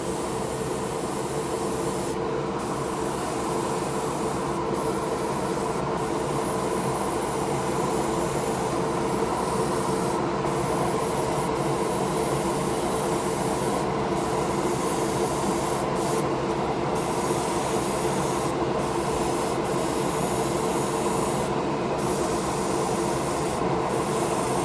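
Steady airbrush or spray-gun hiss applies pearl green paint to a scale model in a spray booth, a continuous, even rushing sound that holds for the whole stretch with only tiny breaks and no voices.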